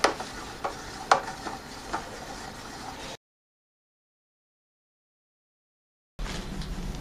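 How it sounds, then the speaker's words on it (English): Amarone wine kit must stirred vigorously in a primary fermentation bucket, a close series of irregular sloshing scrapes and knocks for about three seconds, then silence before the stirring noise resumes. "what I'm going to do next is stir this up really"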